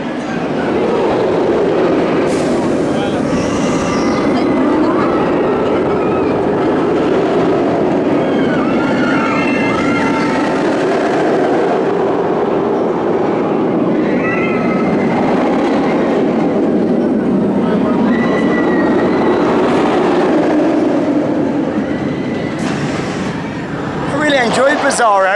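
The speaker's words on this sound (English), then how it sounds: "Bizarro there, really nice B&M flawless coaster, very smooth" A B&M roller coaster, Bizarro at Six Flags Great Adventure, rumbles along its track in a steady, loud, continuous roar with clattering running noise, and faint voices occasionally come through.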